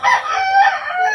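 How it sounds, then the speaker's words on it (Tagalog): Rooster crowing once, loud and close, a single sustained call over about a second. "Kanino mga manok yun?"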